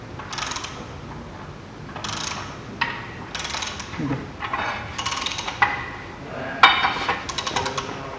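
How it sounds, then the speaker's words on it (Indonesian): A socket wrench with a 19 mm socket ratchets while tightening a tie rod bolt on a rack-and-pinion hydraulic power steering system, giving repeated bursts of sharp clicking close by with small metallic clinks between strokes. "pengencangan pada baut tie rod dengan menggunakan kunci shock 19"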